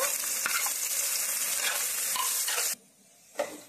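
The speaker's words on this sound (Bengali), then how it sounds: "এখন আমি এটাকে বেরেস্তার মতো করে ভেজে নেব।" Thin slices of onion fry into birista in hot oil with a loud, dense, close-up sizzle that cuts off abruptly near the end, leaving quiet and a single clatter.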